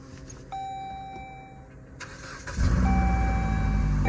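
A Dodge Journey's engine cranks and starts after a battery replacement, then settles into a loud, steady idle. Electronic door-chime tones ring beforehand, and no one speaks.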